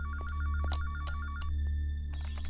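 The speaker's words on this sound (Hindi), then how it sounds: "फोन बजने दो।" A telephone rings with a fast warbling electronic trill for about a second and a half, then stops, over a steady low hum and scattered clicks, close and clear with no talk.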